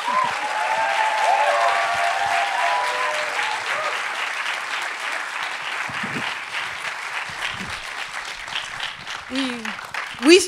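Warm applause from a film festival audience at a Q&A screening, a full, sustained wash of clapping for about ten seconds, with a voice speaking over the start and sounds of the guests arriving near the end.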